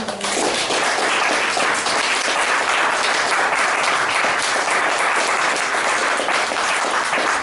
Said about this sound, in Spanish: Denle un aplauso grande.